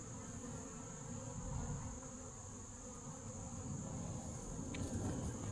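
Bees buzz steadily at close range in a low, continuous drone, with a faint high whine running underneath and no voices.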